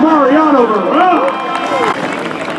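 Crowd at a high school senior night ceremony cheering and yelling for an honoree, loud and sustained, with shouted voices rising above the roar.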